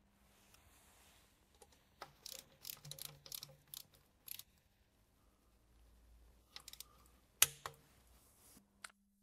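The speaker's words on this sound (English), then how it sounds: "We will now securely tighten them in a crisscross pattern with 10 Newton meters per screw." A ratchet wrench clicks in short bursts as the oil pan screws on an Audi S-Tronic DSG automatic gearbox are tightened in a crisscross pattern, quiet and close with pauses between the bursts.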